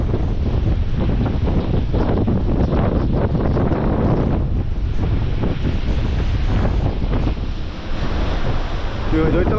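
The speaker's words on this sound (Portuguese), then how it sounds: "Foi só chegar o vento forte." Strong wind buffets the microphone while big sea waves crash and roar along the coast at Arraial do Cabo, a loud continuous surf rumble with gusting noise and no clear pauses.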